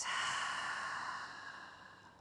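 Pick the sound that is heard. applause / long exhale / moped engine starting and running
long exhale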